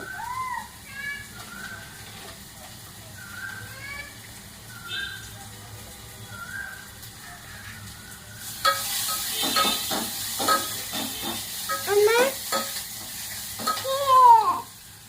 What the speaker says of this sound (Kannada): ಈಗ ನೋಡಿ, ಇದು ಒಗ್ಗರಣೆ ಆಗಿದೆ.